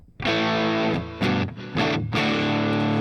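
Clean electric guitar chords through a Line 6 HX Stomp amp model based on the Mesa Boogie Lone Star clean channel ring out, strummed in a few sustained, full-bodied strokes with slight shimmer, played alone.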